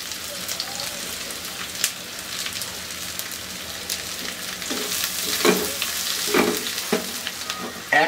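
Finely chopped local onions hit hot oil in a pan for cabbage and red lentil dal, making a crackling, rain-like sizzle that swells toward the end, punctuated by stirring clatters.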